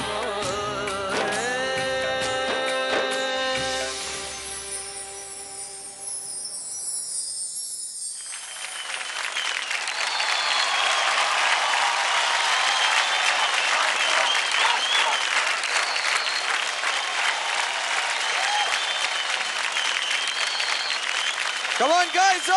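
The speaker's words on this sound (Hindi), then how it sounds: "जोरदार ताली हो जाए अभिक और राजस्मिता के लिए" A television dance competition audience bursts into loud, sustained applause and cheering that swells after a stretch of music fades out, then keeps going steadily to the end.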